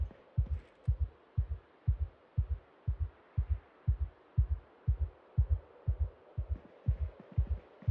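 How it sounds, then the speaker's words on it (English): A character's heartbeat in Project Zomboid, racing from the claustrophobic trait: loud, close double thumps repeating quickly and evenly, about two per second, alone with no talk. "With the claustrophobic trait, his heartbeat is going a lot."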